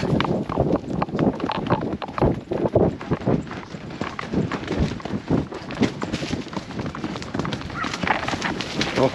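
Horse hooves clip-clop rapidly and continuously nearby on backcountry ground in Patagonia while dogs work a herd of cows, a dense, uneven patter of hoofbeats.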